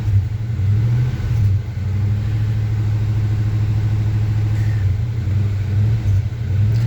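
A 1978 or 1975 Chevy C10 pickup truck engine runs steadily at close range, a deep rumbling idle with slight rises in revs and no talking.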